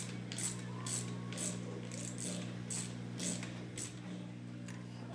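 A hex ratchet clicks in a steady run of short bursts while tightening head bolts on a Honda B16A cylinder head during reassembly, close and clear over a constant low hum, with no talk.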